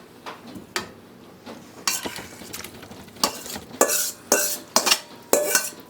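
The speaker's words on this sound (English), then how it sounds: "next I'm going to add my beans and green chilies" Beans and green chilies go into a pot of white bean shrimp chili and are stirred, with clinking spoon strikes against the pot, wet scraping strokes and a light sizzle, close and intermittent.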